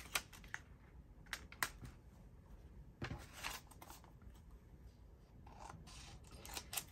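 Scissors trimming paper for an envelope journal, giving several brief crisp snips and paper rustles, close and fairly quiet over a steady background hiss.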